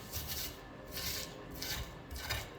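Salt and ingredients are ground in a mortar and pestle for a Ghanaian snack, giving steady rough rubbing and scraping strokes in a repeating rhythm, close and moderately quiet, with no voices.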